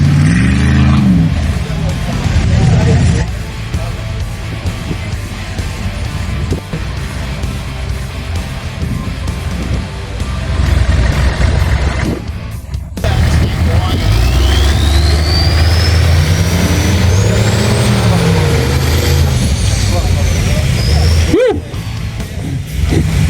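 Ultra4 wrecker off-road car, half-built but running, on an off-road course, its engine revving and roaring loudly up close with repeated rising and falling surges, brief dips between bursts.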